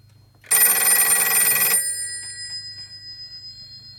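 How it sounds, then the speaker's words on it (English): A Western Electric 302 telephone's bell gives one loud, steady ring of just over a second, then a slowly decaying metallic shimmer, with a low hum in the background. "And the phone is ringing."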